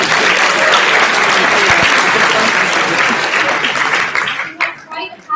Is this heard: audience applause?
yes